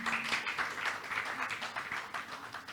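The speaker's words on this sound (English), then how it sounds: "A big round of applause to her." An audience at a talk on Indian classical dance claps to welcome a speaker, a soft, steady patter of many hands heard at a distance, fairly faint and lasting a few seconds.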